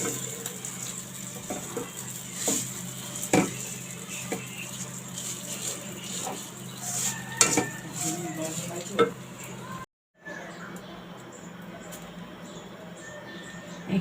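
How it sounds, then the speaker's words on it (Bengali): Vermicelli lightly frying in oil or ghee in a pan, a low steady sizzle with repeated scrapes and clinks of a stirring utensil against the pan, a brief dropout near the end, no talking. "এটাকে হালকা একটু ভেজে নিচ্ছি।"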